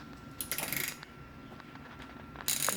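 Bolts being tightened with a ratcheting tool on an Azusa mini bike kit, giving short bursts of mechanical clicking and metal rattling close by, separated by quieter stretches.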